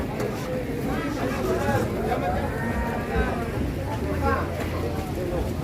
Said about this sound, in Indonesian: Sapi ini beludak lur di pasar Muntilan,